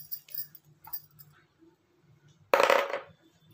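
A single coin drops into a bowl with a sharp, bright metallic clink that rings briefly and then fades, following a quiet stretch with faint background sounds.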